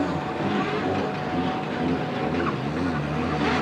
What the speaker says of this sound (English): Troy Jenkins will be the next driver out in the 2JZ powered Toyota GT86, producing 700 horsepower